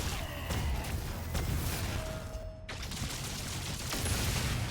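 Dense, continuous gunfire and explosive blasts from destroying a tank in DOOM: The Dark Ages, a loud chaotic wash of shots and impacts with a brief dip midway.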